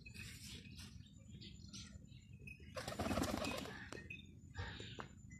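Pigeons at a pigeon-flying tournament, wings flapping in a loud burst mid-clip amid soft cooing and scattered chirps, close by over steady low outdoor noise.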